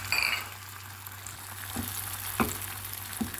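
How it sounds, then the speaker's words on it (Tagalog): An egg sizzles in hot oil in a preheated frying pan for a cheesy omelette, with a steady close crackle and a few soft clicks of a utensil against the pan. "So naglagay na ako ng oil sa ating pinainit na kawali guys. Dinlagay natin yung ating egg."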